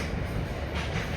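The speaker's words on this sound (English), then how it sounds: "That's a train going past the Lisgartaloo railway line." A train passing on the Lisgartaloo railway line, a steady rumbling roll of carriages with faint clattering, moderately loud and continuous, no voices.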